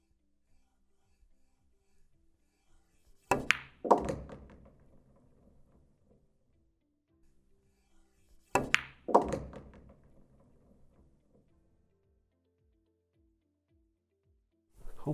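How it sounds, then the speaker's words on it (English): Two sharp cracks of a cue ball struck with a stun shot on a pool table, each followed by a short rattle of balls colliding, separated by about five seconds of near silence in a quiet room. "Just stun the cue ball over towards here to have a, in the perfect case, a straight shot on the 4-ball."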